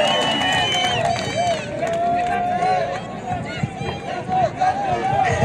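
A large outdoor political rally crowd in Murang'a clapping and cheering to welcome a senator, a dense continuous roar of applause and voices mixed with shouting.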